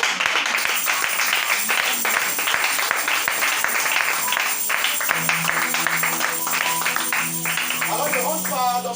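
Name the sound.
congregation applauding and cheering for the Lord in church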